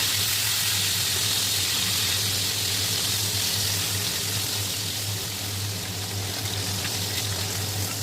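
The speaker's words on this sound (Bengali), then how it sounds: "এবার আমি মাছগুলোকে ভেজে নিচ্ছি।" Fish frying in hot oil in a kadai gives a steady, even sizzle with a constant low hum underneath, continuous and moderately loud throughout.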